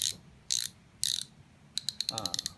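Bursts of rapid mechanical clicking from a fishing reel ratchet, several separate spins with pauses, then a quick run of sharp ticks, close and clear.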